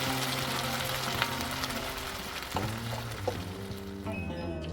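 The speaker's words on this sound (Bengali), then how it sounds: "এই যে চিকেন ডামস্টিকগুলো ভেজে নিচ্ছি" Chicken drumsticks, trimmed lollipop-style, frying in a pan with a loud, continuous close sizzle and a few clinks and shifts of the pieces.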